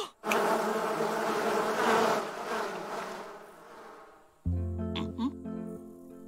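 Cartoon bees give a loud, close swarm of buzzing that swells and then fades, before a brief tonal jingle sounds near the end.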